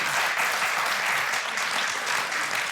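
Sustained studio audience applause during a Russian talk show, a dense, steady wash of many hands clapping for nearly three seconds with no voices breaking through.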